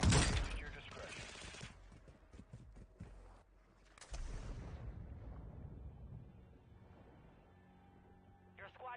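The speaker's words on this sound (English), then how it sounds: "Our mortar strike is inbound." Mortar strike explosions in a shooter video game: two heavy, booming blasts a few seconds apart, each with a rolling rumble, under radio-style voices.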